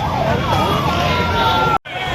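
An ambulance siren wails along a crowded street, loud and close with a rising and falling tone over traffic noise, cutting out briefly near the end; voices are faintly audible underneath.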